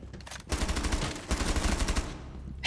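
Rapid bursts of video game gunfire ending in a headshot, loud and close: a short burst, then a longer automatic string with a brief gap in the middle, and no talking over it.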